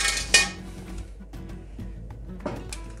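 A kazan cooking pot set down with a sharp metallic clank, followed by lighter clinks and knocks of kitchen utensils at close range in a quiet kitchen.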